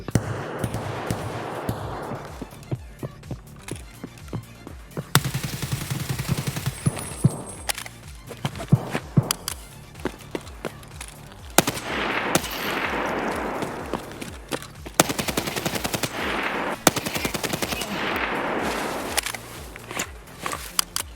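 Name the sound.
gunfire from SA58 rifle in Escape from Tarkov video game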